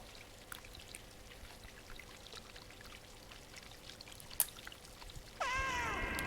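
A cat meows in the video game Stray while moving through the city sewers. Steady running, pouring water fills the scene, and a few short meows rise over it near the end.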